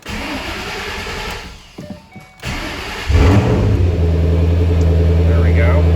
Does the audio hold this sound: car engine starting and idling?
yes